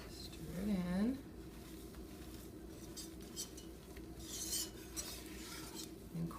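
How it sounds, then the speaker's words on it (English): A spoon stirring cheese into a soufflé base in a bowl, soft scraping and light clinks, quiet and close, with a voice talking over part of it. "Stir it in."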